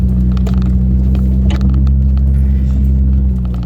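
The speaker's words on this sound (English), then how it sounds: "We're going uphill, two-wheel drive, KO2 tires" A GMC Canyon pickup on KO2 tires in two-wheel drive climbs uphill off-road, its engine a steady, close, low drone with faint rattles over it.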